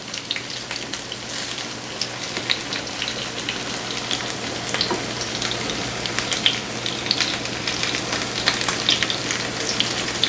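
Mushrooms fry in a pan for veggie burgers, giving a continuous close sizzle dense with tiny crackles and pops, no voices.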